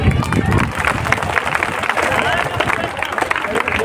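A school audience at an Independence Day event at Abdul Kalam Inter College claps steadily throughout, a dense crowd applause with voices mixed in.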